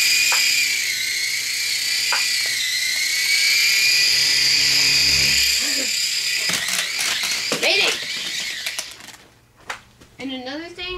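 A toy RC helicopter with spinning propellers gives a steady high whine that runs close and loud for several seconds, then breaks into mechanical clicks and fades as a voice talks over it.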